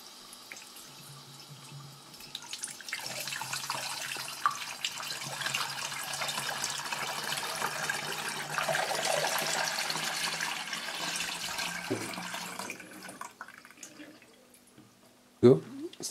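Drained coolant from a 2006 Audi A3 Sportback 2.0 being poured back into the engine, a steady broadband liquid pour lasting about ten seconds, fairly close, then tapering off with a brief clunk near the end.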